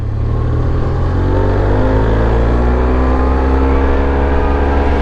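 A Yamaha TMAX 500 scooter engine drones loud and close while riding, its pitch climbing steadily as it accelerates, with rushing wind noise throughout.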